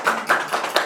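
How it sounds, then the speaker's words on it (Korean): Brief burst of hands clapping from an audience at a lecture for care workers, a few quick close claps in an irregular patter, with no one talking. "박수 쳐주세요"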